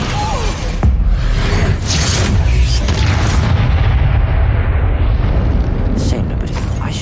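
Descendo spell effect in Hogwarts Legacy: a loud, heavy, rumbling boom with crashing impact noise that rolls on for several seconds before easing off.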